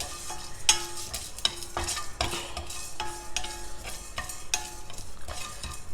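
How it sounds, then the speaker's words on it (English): Urad dal and dry red chilies dry-roast together in a pan over a low flame, with repeated scraping stirs and faint crackling at an even pace close by. "on a low flame dry roast all these together"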